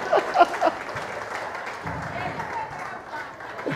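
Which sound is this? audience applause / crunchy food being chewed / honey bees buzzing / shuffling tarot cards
audience applause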